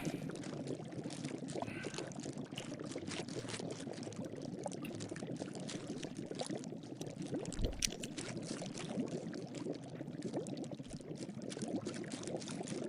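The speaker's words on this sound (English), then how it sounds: "Now we poured it into our 9-inch pie dish" Pumpkin pie filling poured into a 9-inch pie dish, a steady soft liquid pour with faint gurgling that runs without a break for several seconds.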